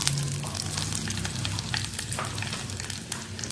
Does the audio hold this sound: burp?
no